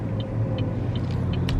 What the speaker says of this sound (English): there's so much traffic today